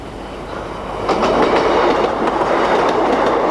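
A Class 156 Sprinter diesel train passes on the northeast coast line, a rushing roar that swells after a second into steady wheel clatter with rhythmic clickety-clack, fairly close and alone.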